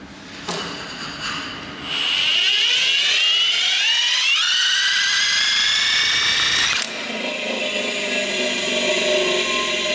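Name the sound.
electric motor spun up by drill, milling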